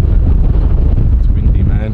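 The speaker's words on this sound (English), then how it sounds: "It's windy, man." Gusty wind at an outdoor drift car meet, loud and buffeting against the microphone in a low, continuous rumble over two seconds.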